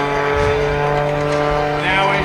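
An aerobatic plane flying low at an airshow, a loud, continuous, steady-pitched engine drone close by, with an announcer talking over it.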